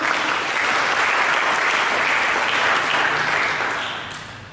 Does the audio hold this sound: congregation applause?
yes